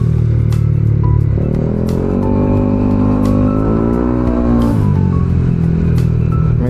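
Loud engine drone with shifting, rising and falling revs as a motorcycle weaves through heavy Philippine traffic, punctuated by short clicks and ticks; continuous and close, with no talking.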